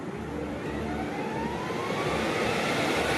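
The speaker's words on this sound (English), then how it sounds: "So Sylvie's now going to start these engines" Airliner jet engines start for an idle engine run at Heathrow: a continuous broad roar fills the air while a faint tone slowly climbs as the engines spool up, steady and close.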